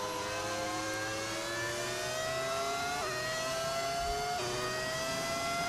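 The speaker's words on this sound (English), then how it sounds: "Does it sound like V6? That's because it isn't a V6, it's a V10." A V10 Formula 1 car engine in the F1 25 racing game revs in a high, whining tone that climbs smoothly, with two quick gear shifts that briefly drop the pitch before it rises again, heard alone and fairly loud.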